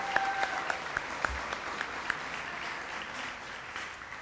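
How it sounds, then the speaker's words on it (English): A crowd at a hall of fame induction ceremony applauds steadily for several seconds, a warm wash of clapping with a few sharper claps standing out early on. "Round of applause for Carrington."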